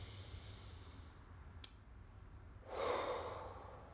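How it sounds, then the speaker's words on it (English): A single deep breath drawn in and slowly released during a guided meditation, soft and close in a quiet room, preceded by one faint click. "let's take a deep breath in again"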